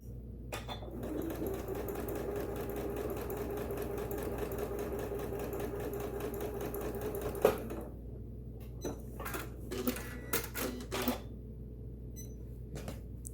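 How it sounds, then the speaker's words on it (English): A sewing machine runs steadily, stitching fabric strips together for a string quilt block made from scraps, with a continuous mechanical hum for about seven seconds, then stops and gives way to scattered fabric handling and small clicks. "I'm going to sew right along the edge a 1/4 inch in"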